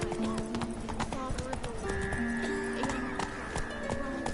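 Horse hooves clip-clopping at a gallop in The Witcher 3 video game, a steady rhythmic beat mixed with game music and a snort, with a voice talking over it.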